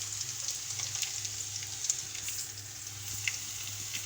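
Taro stolons fry in hot oil while being stirred, giving a soft, steady sizzle with scattered small scrapes and crackles over a low background hum.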